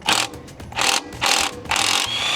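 Ratchet or impact wrench turning a 12mm bolt, four loud rapid bursts of mechanical rattling separated by brief pauses, close and alone.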